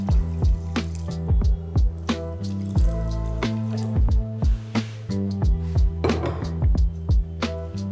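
Water is poured onto sugar in a kadhai on a gas stove while making thandai syrup, heard as a series of uneven drips, plops and splashes close by.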